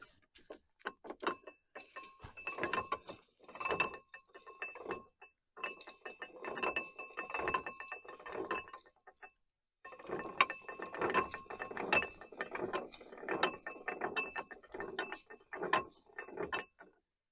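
Hand-cranked crane ratchet clicking in bursts of rapid metallic clinks as it is wound, with short pauses between sets of cranks while lifting a swage block; moderately close and alone.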